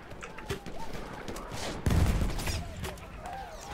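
Battlefield 1 gunfire cracks at a distance, with scattered shots and then a heavier burst midway, set against a busy battlefield din.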